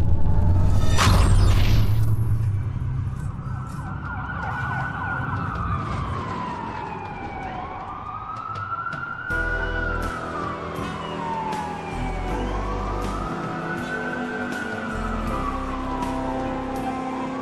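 Police sirens wail continuously in the Watch Dogs video game, a loud rising-and-falling howl sweeping up and down over dense street and engine noise with no talking.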